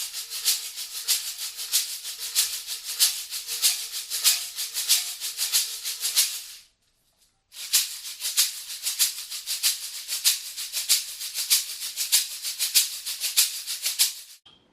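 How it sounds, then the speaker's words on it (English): A ganzá, a metal cylinder filled with hard seeds, shaken close up in a steady rapid rhythm, producing bright, hissing high-pitched rattles, stopping briefly for about a second midway and then resuming. "when the cylinder is shaken they hit the sides and make a distinctive high-pitched sound like this"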